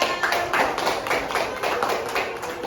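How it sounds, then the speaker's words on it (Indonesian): A burst of applause from a class of students, quick uneven claps filling a couple of seconds, close and fairly loud. "Tepuk tangan untuk Ian."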